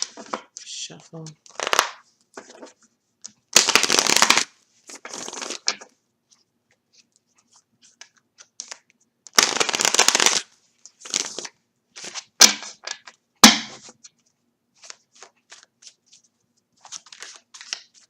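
Several bursts of tarot cards being shuffled, riffling and rustling close up, separated by pauses and occasional quiet talking.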